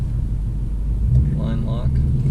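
Low, steady engine rumble from a 2024 Ford Mustang GT with a six-speed manual as it sets off on a drive, a constant droning bed with brief mid-range tones rising partway through.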